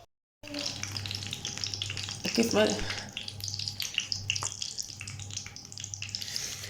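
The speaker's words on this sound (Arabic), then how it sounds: "الدنجال درتو على الجهه الكحله، هي الاولى يتقلى" Eggplant slices frying in a pan of hot oil, a steady close sizzle and crackle with a few sharper pops and a faint low hum underneath, no talk.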